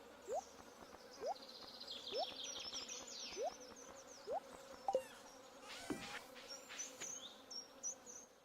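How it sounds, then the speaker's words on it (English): Insect-like buzzing of bees kept in a house in Stardew Valley, a steady drone with repeated short rising chirps and faint game effects, no talk. "I'm about to put those bees into a different house just so I don't have to hear them."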